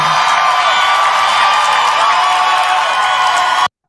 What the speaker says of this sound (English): Gonna tell her crowd that's shouting Kamala, Kamala